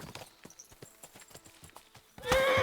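Hoofbeats of a horse walking in the video game Kingdom Come: Deliverance 2, a clear rhythmic clip-clop that ends in a loud whinny.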